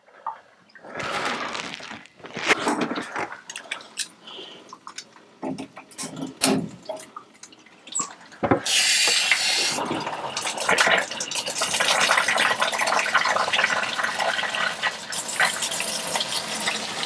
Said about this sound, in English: I'm going to slowly turn on the water.